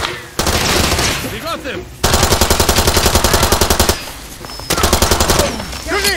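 Rapid bursts of automatic gunfire from Far Cry 2, loud and close, rattling in long sustained volleys with short pauses between them, while a voice shouts briefly over the shooting.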